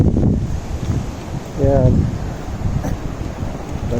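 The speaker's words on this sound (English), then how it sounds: "it's a bit windy." Gusty wind blows outdoors on an afternoon walk in nature, a steady low rumble buffeting the microphone throughout while a person talks over it.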